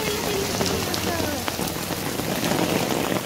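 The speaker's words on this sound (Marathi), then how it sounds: "मुसळधार पाऊस आहे." Heavy monsoon-style rain pours down steadily and close, a dense continuous hiss of drops striking surfaces, with a faint rumble underneath.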